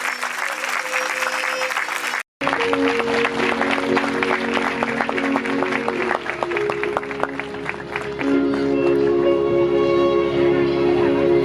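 A church congregation applauds loudly and steadily for a pastor, dense sustained clapping from a crowd close by after a brief cut, with voices murmuring beneath it.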